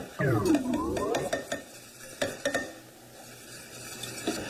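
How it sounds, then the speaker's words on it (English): Cocoa sauce whisked in a saucier: a close, rhythmic clatter of a wire whisk against the metal pan, with a few sharper clinks and a soft swirling hiss underneath. "Now you're going to be sitting here whisking, and you're going to start thinking this is never going to come together."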